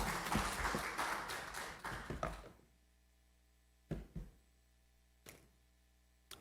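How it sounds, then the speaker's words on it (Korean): A church congregation claps to welcome a preacher, with brisk, fairly full applause for about two and a half seconds that then stops abruptly, followed by near silence broken by a few isolated knocks and taps. "김민철 목사님 나오셔서 빛나게 하는 제자라는 제목으로 말씀 증거해 주실 때 우리 박수로 환영했으면 좋겠습니다."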